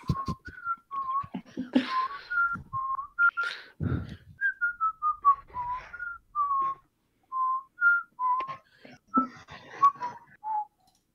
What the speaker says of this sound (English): Oh, whoever's whistling, take over.